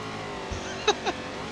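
A race car with a stage 4 tune and a blown motor, driven in a video game, holds a steady engine drone broken by two brief, high squealing chirps.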